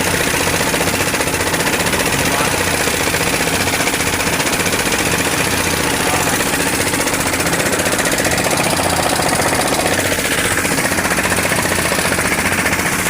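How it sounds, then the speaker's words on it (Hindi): A boat engine on the Indus river runs loud and close, a dense rapid mechanical knocking and rattle that stays steady for the whole span without pause. "ये हमारी गाड़ी का इंजन है"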